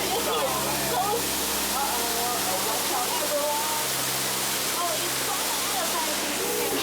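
Water sprays steadily from an elephant figure on the Disney Jungle Cruise ride, a continuous rushing wash beneath a guide's talk.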